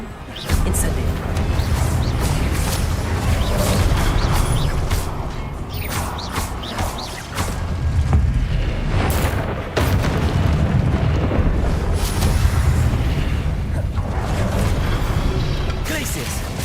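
Incendio fire spell cast in the Hogwarts Legacy video game, a loud burst of rumbling, booming fire with crackling texture, sustained over a dense mix of game effects in repeated surges.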